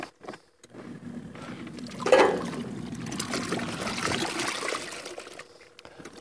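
Water pours steadily into a laundry tub at an off-grid desert camp, a close, continuous splashing rush that swells and then cuts off near the end.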